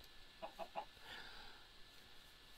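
Chicken clucking in the game Minecraft: three quick soft clucks in a row, faint and fairly near, followed by quiet ambient hiss.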